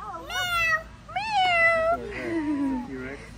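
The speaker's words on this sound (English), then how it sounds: "Kitty cat, where are you?" A house cat gives three close, drawn-out meows, each rising then falling in pitch, separated by brief pauses against a quiet indoor background.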